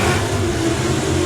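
Drag racing car on a run at a national finals event, a steady, loud buzzing engine drone held throughout, sounding almost like a motorbike.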